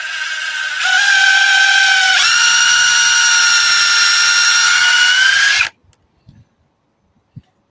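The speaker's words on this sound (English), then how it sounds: "And I'm gonna put a couple of screws in there." Power drill driving screws into wood, close and loud, one sustained whine of about five seconds that rises in pitch before cutting off, followed by a couple of faint clicks.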